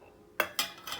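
Green chili dropped into a mixer jar for coconut chutney: three short knocks and clinks spaced through one second, close and clear over a quiet kitchen background, no voice.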